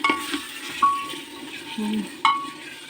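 Chicken for biryani cooking in a pan over a medium flame, a soft sizzle under stirring scrapes and a few sharp metallic clinks of a spoon against the pan.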